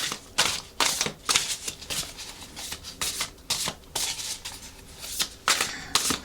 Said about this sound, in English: Let's just shuffle a little bit more, and then I will pick some cards.